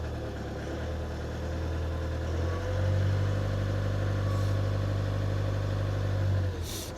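Volkswagen Polo engine with a DPF fault idling steadily nearby, a low continuous rumble that deepens and strengthens partway through, holding an even drone before easing off at the end.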